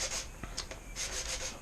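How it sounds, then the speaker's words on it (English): Hand sanding of plastic side covers from a motorcycle in a garage, giving soft repeated rubbing strokes that rise and fall in a short, close-up burst. "Me sanding."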